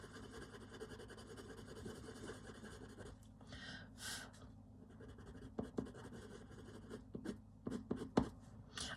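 A Derwent coloured pencil burnishing on paper under hard pressure, a close scratchy scribbling texture with uneven strokes and brief louder scrapes, no talking.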